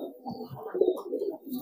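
A racing pigeon coos softly in low, rolling murmurs, close by and continuous over a short stretch.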